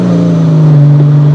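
A Porsche GT3 Cayman with a PDK dual-clutch gearbox cruising under light load produces a loud, steady engine drone, with a brief, smooth shift blip near the middle.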